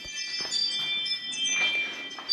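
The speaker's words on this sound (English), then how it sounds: "Pardon my doorbell." A doorbell rings in a home garage during car suspension work, a short, fairly faint bell chime with a few tonal strikes and ringing overtones that fade within about two seconds.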